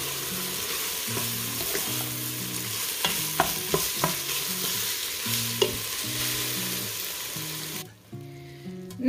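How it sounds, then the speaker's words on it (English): Meat and freshly cut onions cook together in a pan, a constant loud sizzle with intermittent stirring clinks and scrapes, close up, before the frying hiss briefly drops away near the end. "I decided to just cut some onions up right into the cooking meat right now"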